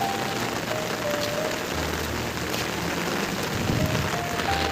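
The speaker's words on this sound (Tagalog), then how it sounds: "Kaya ganyan tuloy-tuloy ang ulan." Steady monsoon rain falls continuously in a dense, even hiss, with a faint intermittent tone threading through.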